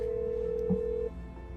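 A single steady electronic phone tone sounds for about a second in Nancy Drew: Mystery of the Seven Keys, then cuts off, leaving quiet room ambience.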